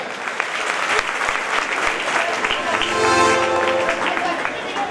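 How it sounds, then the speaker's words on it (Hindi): An audience applauds performers at a Kolkata stage event, a sustained, loud wash of many hands clapping that swells midway, with some voices and crowd noise underneath. "कलाकारों के लिए जोरदार तालियां हो जाए।"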